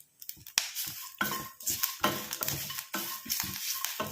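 Grated coconut frying in a pan for a homemade hair dye, with a spoon repeatedly scraping and stirring the metal pan over a soft sizzle, close and fairly loud in irregular bursts.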